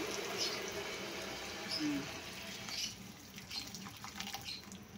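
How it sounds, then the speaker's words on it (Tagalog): Tap water runs into a cooking pot while making a chicken sotanghon soup, a continuous low hiss of pouring liquid, fairly faint and steady, with a voice speaking softly over it. "Pwede na natin lagyan ng tubig."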